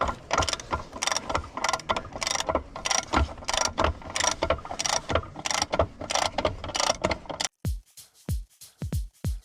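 Heavy track chains on a forestry machine are tightened, giving dense metallic ratcheting clanks in rapid bursts close by, then a few separate sharp knocks at the end.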